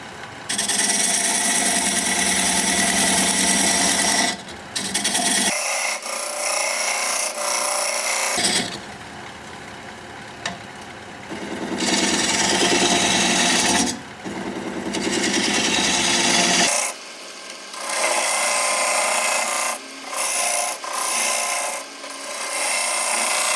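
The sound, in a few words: diamond point tool cutting live oak on a wood lathe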